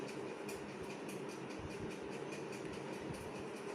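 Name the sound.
Rail Rush train ability in a video game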